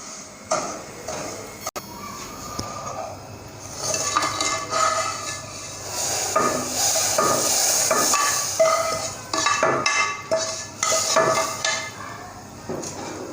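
Roasted vermicelli goes into milk in a metal pot and is stirred, making close clattering scrapes and clinks of a spoon against the pot, dense and fairly loud.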